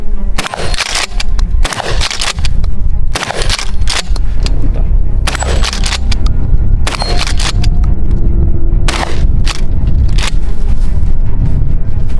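Shotgun blasts ring out at a target-shooting course, a fast series of loud, booming shots fired in quick pairs and clusters with short gaps between them, close and dominant.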